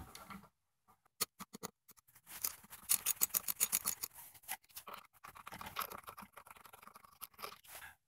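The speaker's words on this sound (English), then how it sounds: "And then we remove the 13 millimeter bolt." Quiet, rapid ratchet-like clicking comes in bursts, faint and close, as a 13 millimeter bolt is loosened from the crank arm of a ProForm Whirlwind exercise bike during bearing replacement.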